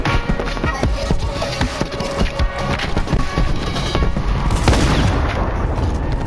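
Sniper fire in Fortnite amid a dense, loud barrage of game gunfire, rapid sharp cracks and booms layered over one another throughout, with no pause.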